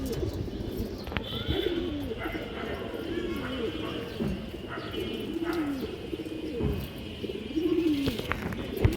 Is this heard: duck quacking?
no